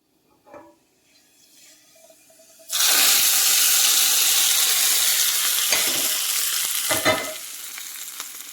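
Hot oil tempering of spluttering mustard seeds and curry leaves poured into a mango chutney, a sudden loud, sustained sizzle after quiet clinks, fading slightly with stirring clatter near the end.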